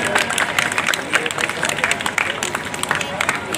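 A crowd at a public event claps loudly for a guest, dense continuous applause with scattered voices and hubbub mixed in.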